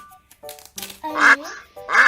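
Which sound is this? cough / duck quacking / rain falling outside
duck quacking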